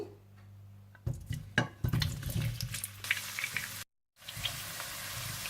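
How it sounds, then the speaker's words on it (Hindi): Potato pieces drop into hot oil and start to fry with a sudden crackling sizzle, then settle into a steady bright spitting hiss, broken by one brief gap of silence. "सबसे पहले आप तेल गरम कर लीजिए। और इसमें डाल दीजिए आलू।"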